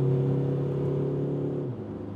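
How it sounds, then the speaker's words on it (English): A Volkswagen Caddy Alltrack with the 2-liter TDI diesel pulls hard on a motorway, heard from inside the cabin. A steady engine drone climbs from about 100 to 120 km/h and eases slightly near the end, with no talking. "the 2-liter TDI, let's give it some acceleration"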